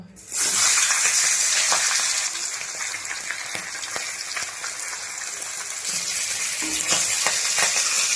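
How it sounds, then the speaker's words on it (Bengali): Fish heads fry in hot oil for a spinach and fish-head dish, giving a loud, close, continuous sizzle with crackling pops and occasional stirring scrapes. "ঘন্টের জন্য প্রথমেই আমি মাছের মাথা দিয়ে করব, তাই মাছের মাথাটা ভেজে নেব।"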